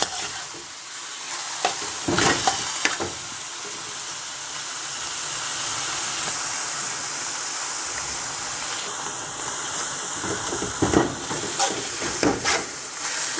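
Chicken, pork and prawn pieces stir-frying for chow mein in a hot pan, a steady loud sizzle and hiss with intermittent scraping and clattering of the utensil as the meat is stirred, no talking.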